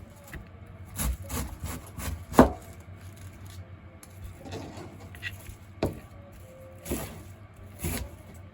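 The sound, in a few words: knife cutting cabbage into pieces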